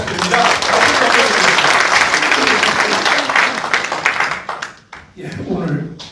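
Audience at a debate forum in the National Assembly on abolishing lawmakers' privileges gives loud, sustained applause, which thins out near the end as a voice starts speaking.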